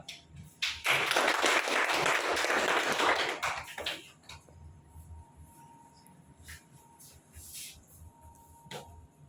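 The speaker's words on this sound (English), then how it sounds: "let's just have a huge round of applause for Mr. Pankaj Kumar" A burst of clapping from an audience at a felicitation ceremony rises loudly for about three seconds, then fades into quiet room noise with scattered taps and faint talk.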